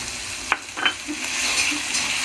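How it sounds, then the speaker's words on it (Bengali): Ground spice paste fries in oil in a wok with a continuous sizzle, punctuated by a couple of brief stirring scrapes early on. "কড়াইতে কিন্তু আমি কিছু বাটা মশলা দিয়ে ভাজবো নিচ্ছি তেলের সাথে"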